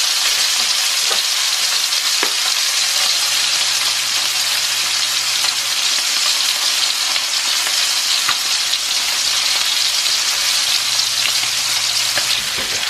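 Rainbow trout frying in a pan with tarragon seasoning, a loud steady close sizzle and crackle that runs unbroken for the whole stretch, with no voices.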